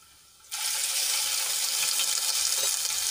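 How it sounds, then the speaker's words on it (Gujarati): Ginger, garlic and chili paste sautéing in hot oil with bay leaf, star anise, cinnamon and dried red chilies, a steady close hiss that starts suddenly and then holds at an even level. "અને પેસ્ટને આપણે થોડી તેલમાં સાંતળી લઈશું."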